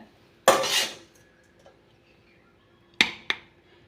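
A metal spoon clinks against a bowl as cooled tempering is added to paddu batter: one sharp strike with a brief ring, then two quick clinks near the end, close by and without talk.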